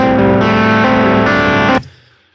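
Electric guitar run through the Ampire amp simulator in PreSonus Studio One, a loud, dense distorted chord held for nearly two seconds, then cut off sharply and left to decay.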